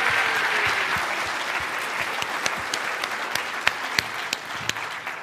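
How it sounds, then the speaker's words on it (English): A conference keynote crowd applauds steadily, a dense wash of clapping that slowly thins toward the end, with a few louder individual claps standing out. "give her another round of applause for her fantastic effort"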